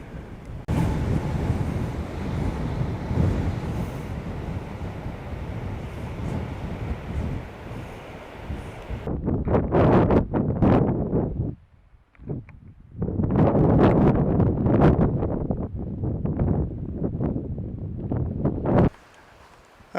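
Strong coastal wind at a seaside cliff at Red Head Cove, roaring and buffeting the microphone in loud gusts for the whole stretch, with short quieter lulls between blasts.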